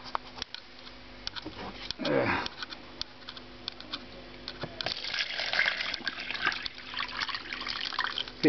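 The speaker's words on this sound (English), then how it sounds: "so we'll add some water." Water splashes and trickles into an etching tank, with irregular clicks and knocks around it, close by and moderately loud.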